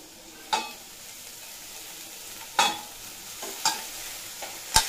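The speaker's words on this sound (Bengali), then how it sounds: "এরপর পালং শাকটা দিয়ে ততক্ষণ পর্যন্ত নাড়াচাড়া করে ভেজে নেব যতক্ষণ না পর্যন্ত আলুগুলো খুব ভালোভাবে সিদ্ধ হয়ে যাচ্ছে।" Spinach being stir-fried with lightly browned potatoes in a pan, a steady soft sizzle broken by four or five sharp scraping stirs spaced a second or two apart, close by with no talking.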